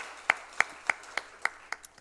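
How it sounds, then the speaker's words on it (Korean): A church congregation claps together during a Friday worship service, seven sharp, evenly spaced claps about a third of a second apart, fairly close, with no voices over them. "우리 하나님께는 영광의 박수, 우리 예교전도에는 감사의 박수를 돌리겠습니다."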